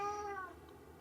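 A house cat meows once near the start, a short tonal cry with rising and falling harmonics, heard close in a quiet indoor room while a faint background hum continues.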